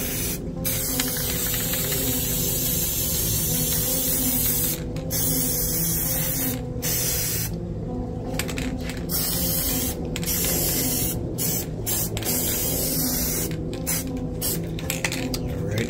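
An aerosol can sprays black paint across a spray paint art piece in long, loud, close hissing bursts, broken by short pauses between sprays.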